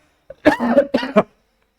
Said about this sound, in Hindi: इसके लिए गले में खांसी हो गई है, सॉरी